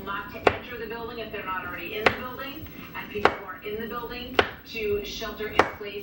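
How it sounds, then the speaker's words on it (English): Knife slicing a block of tempeh into thin strips on a board, with five sharp, evenly spaced chops cutting through a speaking voice. "you just take this, slice it into thin slices"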